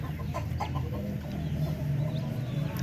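A hen clucks in short repeated bursts over a steady low background hum, fairly close.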